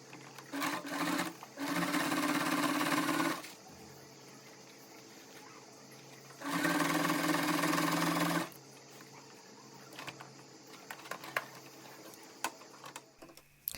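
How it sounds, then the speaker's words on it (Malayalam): Sewing machine stitching the seams of a small cloth phone bag, running in two sustained bursts of several seconds each with quieter handling noises and soft ticks in between; no talking. "ആ ഭാഗം ഒഴികെ ബാക്കി എല്ലാ ഭാഗവും നമുക്ക് സ്റ്റിച്ച് ചെയ്ത് കൊടുക്കുക."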